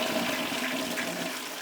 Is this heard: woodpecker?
no